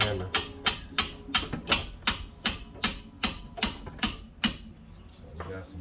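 Twelve sharp, evenly spaced metallic taps from a hammer striking a rear brake caliper on a Lincoln Zephyr, close and loud with a steady rhythm, then a short quiet stretch with faint clatter.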